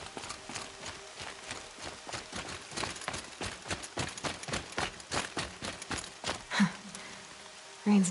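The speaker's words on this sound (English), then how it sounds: "Rain's not so bad." Steady rain falling in the video game Horizon Zero Dawn, a continuous patter with rhythmic thudding hits layered through it and a few faint tones near the end.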